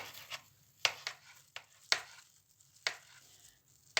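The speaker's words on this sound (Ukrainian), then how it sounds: "Я цей салат нарізаю великими шматочками" A knife chops salad vegetables into large pieces at an uneven pace, with sharp, quiet cuts against a board and short pauses between strokes.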